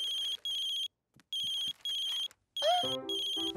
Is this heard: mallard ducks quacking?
no